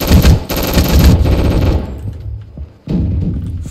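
Rapid automatic gunfire from a weapon in a Roblox game, loud sustained bursts that stop briefly near the end and then resume.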